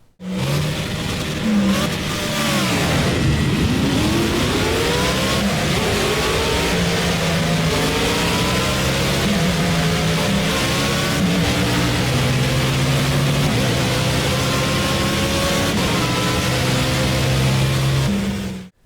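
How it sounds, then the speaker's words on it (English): Race car engines from the Project Cars racing game, loud and continuous, with rising and falling revs sweeping through gear changes and high-pitched acceleration whines throughout, no talking. "But that car sounds absolutely fantastic."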